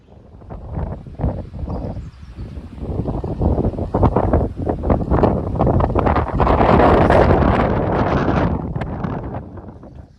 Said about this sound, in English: It's quite windy up there.